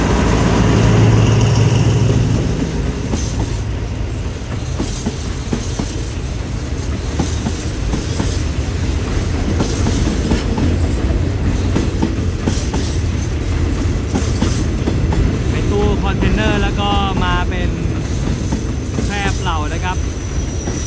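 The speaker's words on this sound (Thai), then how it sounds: "ขบวนที่726 ครับ จากท่าม่วง สักุสินาราย ไปทางไอซิบิลัดกระบังครับเข้าบางซื่อ" SRT freight train 726 hauling containers rolls past at Bang Sue Junction in Thailand, loud and near with a continuous rumble, wheel clatter and squeal, while someone talks over it.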